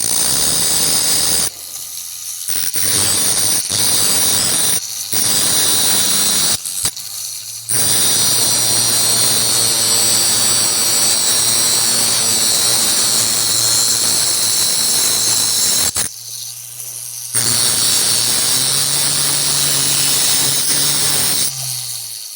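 A lapidary saw cuts through fire agate with a loud, steady, close whine and grinding hiss, broken by several short pauses where the blade stops or lifts before the cut resumes.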